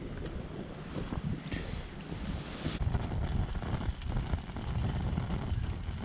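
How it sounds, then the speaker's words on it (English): Wind blowing outdoors, gusting and rumbling against the microphone with a broad, rough roar that rises and falls but never stops. "Quite windy."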